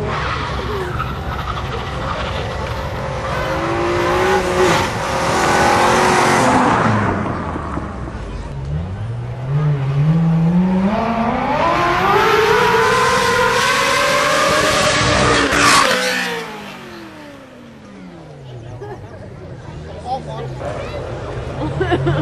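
An Alfa Romeo racing car at Brooklands circuit roars past nearby, engine pitch sweeping up through gears then falling away with a Doppler drop before fading, crowd chatter faintly underneath.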